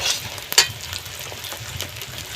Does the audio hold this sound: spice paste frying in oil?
yes